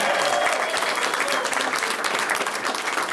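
A crowd claps steadily at Oregon Governor Brown's Fair Shot bill signing, a dense, even wash of applause lasting a few seconds without pause.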